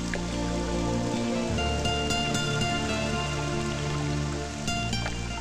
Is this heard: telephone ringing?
no